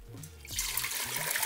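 Water pours into a bowl for pizza dough at home, a close, steady splashing stream that starts after a brief pause and runs on continuously, with no talking.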